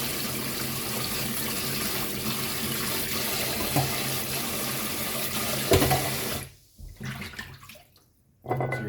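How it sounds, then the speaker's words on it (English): Running tap water rinses coconut pieces for Jamaican coconut dumplings, a steady close hiss of flowing water at a sink that cuts off near the end, followed by a few brief gurgles and splashes. "We rinse them off just to ensure that nothing brown is on them"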